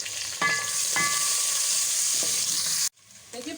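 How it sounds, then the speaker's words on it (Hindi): Chopped onions brown in hot oil in a pan with a loud, constant sizzle. A few metallic clinks from stirring ring out early, then the frying cuts off abruptly near the end before faint kitchen noises resume. "ये मैंने प्याज डाल दी है। मैं इसको थोड़ी देर ब्राउन करूँगी।"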